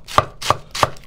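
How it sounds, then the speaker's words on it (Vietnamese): Knife chopping salad greens into thin strips on a board while making fried rice with salted fish: three sharp, evenly spaced chops, close and crisp, with no talking. "Mình xắt sợi."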